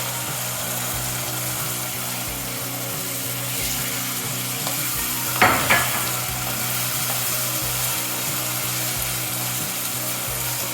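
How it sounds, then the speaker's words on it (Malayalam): Cleaned mackerel goes into a pan of simmering tamarind gravy for a Kerala-style mackerel roast, giving a steady close sizzle with a brief louder clatter midway. "ഇനി നമുക്ക് ഇതിലോട്ട് നന്നാക്കി വെച്ച ആ അയില ചേർത്ത് കൊടുക്കാം."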